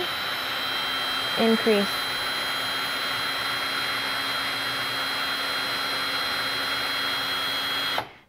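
A power drill bores slowly into wood with a steady, even whine that holds for about eight seconds and stops abruptly at the end, with a brief spoken word over it near the start.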